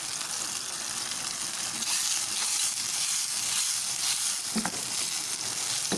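Spices sizzling and frying in a pan with softened tomatoes for mash dal, a steady close hiss with a few brief crackles and no talk.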